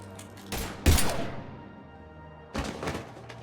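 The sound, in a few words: gunfire in the video game Mass Effect 3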